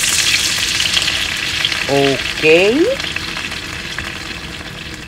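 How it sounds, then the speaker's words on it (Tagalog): Lapu-lapu fish frying in a pan, a steady hiss of oil sizzling throughout at close range, with a brief spoken word partway through. "i-prito muna po natin ang ating isda."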